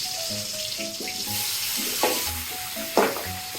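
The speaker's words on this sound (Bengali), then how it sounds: "আমার তেল গরম হয়ে গেছে, আমি ভেন্ডিগুলো একটু ভেজে নিচ্ছি।" Okra fries in hot white oil, a loud close crackling sizzle throughout with a couple of sharper bursts as the pieces shift, no voices.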